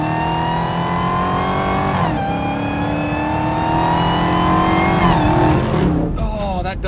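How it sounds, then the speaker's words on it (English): A Dodge Charger Hellcat Redeye accelerates hard, its engine and supercharger whine climbing steadily in pitch through the gears with brief dips at each shift, loud and close throughout. "you've got that supercharger scream up front"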